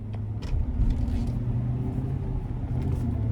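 Engine rumble inside a 2019 Chevrolet Silverado 1500 RST with a V8 and 8-speed gearbox, heard steadily from the cabin on a road test drive, low and continuous with light road noise.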